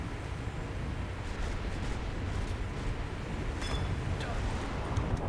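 In a naval battle game, a torpedo strikes a Fletcher-class destroyer, producing a dense, sustained low roar of explosion and rumbling sea-battle noise with a few sharper bursts partway through.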